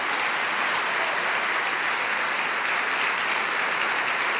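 Church congregation at a Christian worship service applauds in a steady, dense, continuous roar of clapping, loud and even from start to finish with no voices rising above it.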